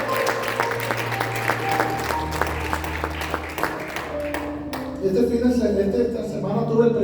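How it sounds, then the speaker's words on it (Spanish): A church congregation applauds, with scattered claps over sustained organ-like musical tones that shift pitch as the clapping carries on. "Dale un aplauso más fuerte al Señor."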